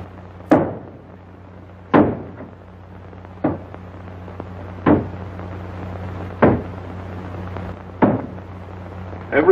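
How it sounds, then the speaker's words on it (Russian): Heavy blows against a wooden door as it is being broken down, about seven loud thuds spaced roughly a second or more apart, each with a sharp impact and short rattle, no voices. "Ломайте дверь."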